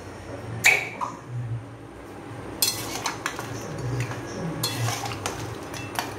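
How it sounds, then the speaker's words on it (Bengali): A spoon stirs crab malai curry in a metal pan with the heat turned off, making close clinks and scraping taps of metal on metal at irregular moments over a low background. "এবার একটু ভালো করে নাড়িয়ে দেব।"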